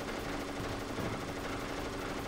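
Rapid automatic gunfire in Metal Gear Solid, a dense continuous burst of loud shots raking down aisles, with no talking.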